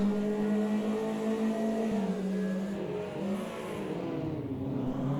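Race cars from a Nemesis Krave L22 CHO round running close together, engines droning and shifting pitch as they rev, steady and near with no talk.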